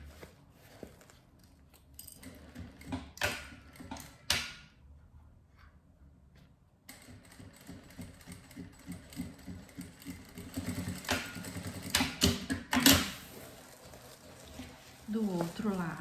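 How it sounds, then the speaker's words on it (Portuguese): A sewing machine runs in short bursts of rapid stitching, sewing fabric for a notebook bag, close by, with a person's voice heard at times between and over the mechanical whirring. "Deito a peça na máquina e passo uma costura de um pé de máquina."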